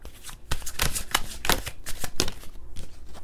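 Tarot cards riffled and shuffled by hand in a quick series of crisp, papery bursts, close and clear with no voices.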